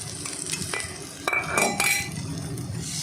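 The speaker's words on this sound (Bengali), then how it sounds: "আবার একটু নেড়ে চেড়ে নেব।" Fried potatoes being stirred with salt in a pan, with a few scraping clinks of a utensil against the metal over a soft sizzle, close and fairly quiet, louder in a short burst around the middle.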